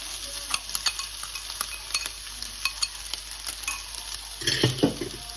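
Beaten egg and softened onions frying in a pan for a Kerala egg and drumstick stir-fry, a soft continuous sizzle with light spatula scrapes and clinks against the pan, ending in a louder scraping stir.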